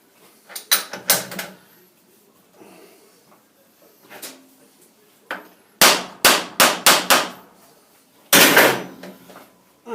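Metal clanks and knocks from a workpiece being clamped into a milling vise in a machine shop, coming in short clustered bursts of sharp hits with quiet gaps between them.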